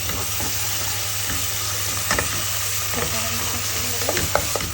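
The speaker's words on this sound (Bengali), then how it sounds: "এখন আদা রসুনের পেস্টটাকে একটু কষিয়ে নিতে হবে" Ginger garlic paste fries in a pan with a steady sizzle, broken by a few spoon scrapes and clinks near the end, over a low hum, with no voices.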